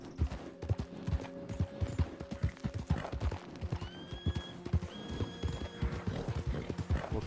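A horse gallops in a video game with a quick, rhythmic clip-clop of hooves, close and loud, plus a couple of short whinnies partway through.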